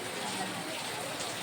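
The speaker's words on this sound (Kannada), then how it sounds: "ಲಾಸ್ಟಲ್ಲಿ ಮಳೆ ಬರ್ತೈತೆ." Rain falling steadily, a dense even patter with no breaks, heard close and moderately loud throughout the short stretch.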